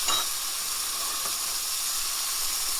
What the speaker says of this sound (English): Now the cream cheese is going to melt right into the pesto, and we'll mix that in.